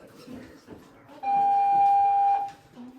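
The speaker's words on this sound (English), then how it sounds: "please disregard that bell" A school bell rings once with a loud, steady electric tone lasting about a second, sounding indoors during a mock trial in a high school, with faint murmuring voices before and after.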